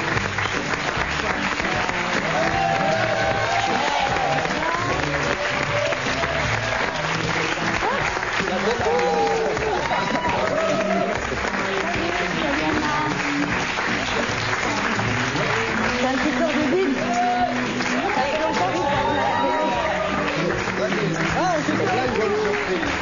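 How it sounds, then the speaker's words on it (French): A studio audience at a French television show applauds a surprise guest, sustained loud clapping for over twenty seconds, with voices and music faintly mixed in beneath it. "On l'applaudit sans savoir qui c'est."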